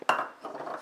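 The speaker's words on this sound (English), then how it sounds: "I'm gonna flip it out onto this pan" Low-carb flax bread turned out of its baking pan onto another pan gives a brief metallic clank and a soft thud, followed by a short scraping rattle of pan against pan.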